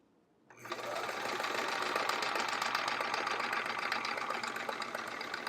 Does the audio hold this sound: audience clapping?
no